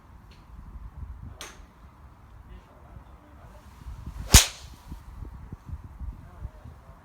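A single sharp, crisp impact of a 2017 TaylorMade M1 440 driver striking a golf ball, loud and close, with quiet outdoor background before and after.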